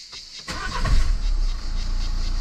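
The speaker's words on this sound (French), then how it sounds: "Et là tu redémarres." A Renault Megane 4 with a 1.5 dCi diesel engine restarts after an oil change: a brief crank gives way to a loud, close engine that settles into a steady idle.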